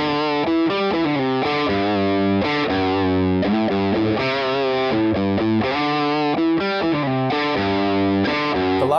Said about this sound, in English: with the coil split, has some real bite for the single coil stuff